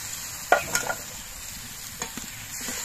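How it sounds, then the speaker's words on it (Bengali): Fried potatoes and flat beans tipped into cooked spice paste give a soft sizzle under a couple of quick scraping, clattering stirs, fairly quiet and close, with no talk. "এবার এর মধ্যে আমি যে আলু শিমগুলো ভেজে রেখেছিলাম সেটা দিয়ে দিচ্ছি।"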